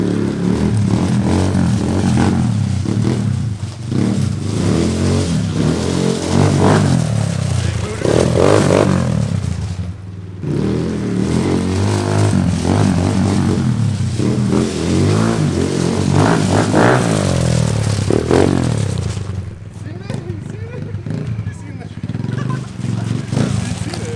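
A KLX110 pit bike engine revs and roars continuously while being ridden on a dirt track, loud and close, with brief dips in throttle and people talking over it.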